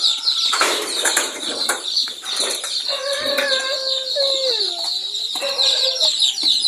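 A brood of about two dozen chicks peeps in thin, high chirps alongside a clucking hen, raised without an incubator; the calls sound close and continuous, with rustling and flapping-like noise mixed in.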